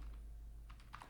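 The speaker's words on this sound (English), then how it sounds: "we can do that by typing pip3" Brief run of keystrokes on a computer keyboard as a pip3 install command is entered on an Ubuntu system on a DFI GHF51 mini PC. A few quick, fairly faint clicks sit over a steady low hum.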